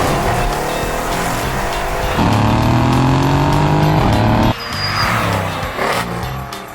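A Mercedes E63 with its exhaust resonator deleted revs hard, holding a loud, raspy roar with rising pitch before dropping off and blipping again, close and alone.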